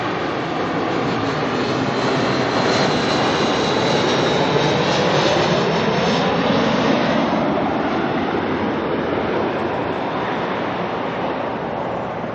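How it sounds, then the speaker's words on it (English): A Jetstar airliner arriving from Wellington at Auckland Airport makes a continuous, loud engine roar that holds steady throughout, heard from the ground with no talk. "Jetstar coming in here from Wellington"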